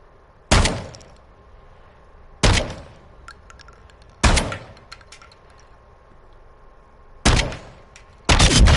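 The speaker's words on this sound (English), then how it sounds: "it took all 5 shots to just kill that guy" Rifle shots in Modern Warfare II, five sharp, loud single cracks spaced a second or two apart, each followed by a short ringing tail over quiet game ambience.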